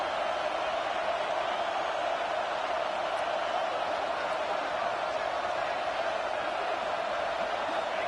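A football stadium crowd roars during a red zone defensive stand, a steady, dense wall of noise that holds throughout without a break.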